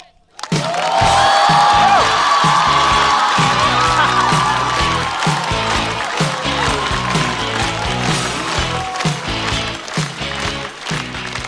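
An audience at a Chinese stand-up comedy show breaks into loud, sustained applause and cheering with whoops as a comedian is welcomed onstage, backed by upbeat entrance music.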